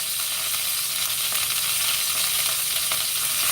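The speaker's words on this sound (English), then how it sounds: "I'm not frying the sausage. It's like, I'm just kind of, it's like sauteing, sauteing." Sausage sautés in a pan with a loud, unbroken sizzle and hiss, plus occasional faint stirring scrapes; nobody talks.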